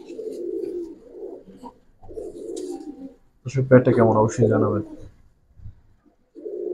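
Silver pigeons coo close by in several low, throaty bursts, with a voice talking over part of it between the calls.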